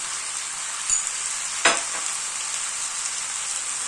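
Vegetables with homemade tomato paste fry in a pan, giving a steady bright sizzle with two brief scraping knocks as they are stirred, close, with no talking.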